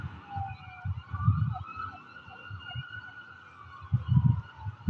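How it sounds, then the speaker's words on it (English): Wailing emergency sirens rising and falling in pitch, somewhat distant, over low rumbling traffic noise. "That's the sirens going off, man. It's an emergency."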